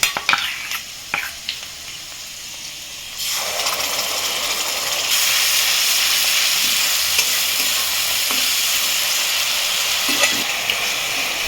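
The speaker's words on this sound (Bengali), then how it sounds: "মশলাটাকে খুব ভালো করে ভেজে নেবো যতক্ষণ না মশলা থেকে তেলটাকে ছেড়ে দিচ্ছে" Spice paste for dhaba-style tarka dal frying in oil with green chilli and ginger, stirred in the pan: scraping stirs at first, then a loud, continuous sizzle and hiss close by.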